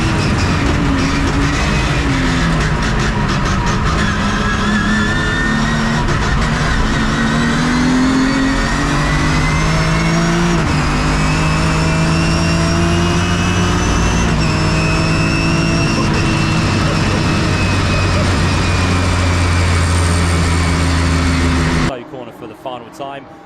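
A field of racing cars, among them a BMW E36, roars past loud and close at Silverstone, engines rising and shifting through gears under continuous commentary before cutting off abruptly.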